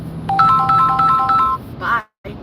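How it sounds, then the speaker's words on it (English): An incoming spam call on a phone plays a bright, repeating melodic ringtone for about a second and a half, with background noise underneath, then a brief sound before the clip cuts to silence. "Somebody's calling me. Potential spam. Can you hear that?"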